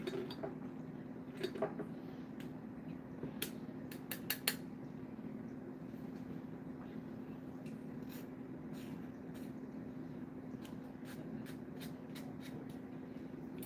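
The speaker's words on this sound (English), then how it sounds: "we are just going to scrape all that off because we want that all in there as much as possible" A spoon scrapes a container in scattered sharp clicks and scrapes, some clustered and some spaced apart, over a constant hum of a fan or machine, with no voices.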